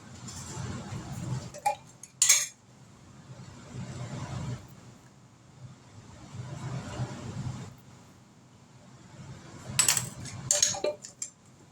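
Metal measuring spoons clink against each other and a bowl while baking ingredients for a homemade chocolate cake are measured out, a few quick bright clinks near and clear, separated by quiet handling.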